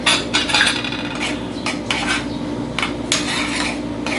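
Noodles and pork tossed together in a pan at home, with close utensil scrapes and clinks against the metal in an uneven, busy rhythm and no talk.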